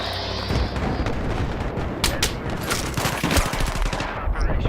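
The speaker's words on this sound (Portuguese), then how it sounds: "Da onde veio esse tiro?" Gunfire in the video game Battlefield 3 multiplayer on the Strike at Karkand map, dense loud bursts of rapid shots and booms layered together, close and continuous.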